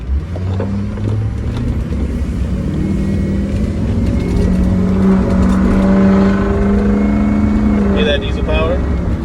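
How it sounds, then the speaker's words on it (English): A diesel vehicle engine revs loudly and close, a sustained rising and falling drone from inside the moving vehicle, with a voice talking over it. "Hear that diesel power?"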